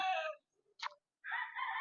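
A young rooster crows in short, broken bursts with brief gaps between them, close and clear, with no talking over it.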